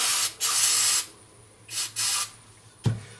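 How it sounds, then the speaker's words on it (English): Cleaner sprays from an aerosol can into an oil filter cap during an oil change on a Pontiac Solstice or Saturn Sky, three loud hissing bursts separated by pauses, then a short knock. "I'm going to use a little cleaner. Just clean out"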